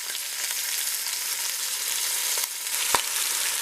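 Chicken pieces sear in a pot for a coconut-thyme braise, a steady close crackling sizzle with a brief sharp tap or knock near the end, no talk.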